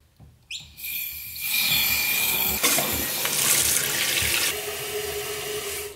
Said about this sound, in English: Now let's turn on the water.